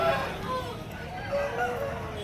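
Chickens and a rooster crowing and clucking at a busy Sunday poultry market in Nellore, bird calls layered over a murmur of crowd voices.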